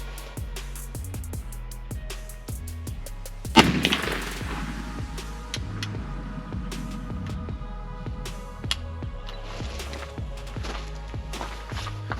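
A single loud shot from a .43 Spanish Argentine rolling block black powder rifle, fired with a light load, cracks out near the start, then a steady throbbing hum carries on in the background.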